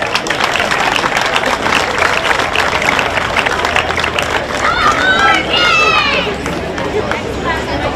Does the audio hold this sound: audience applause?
yes